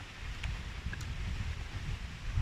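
A strong, cold wind blows outdoors during an open-air meal of grilled chicken and catfish larb, heard as a steady low rumbling buffet against the microphone with no talking.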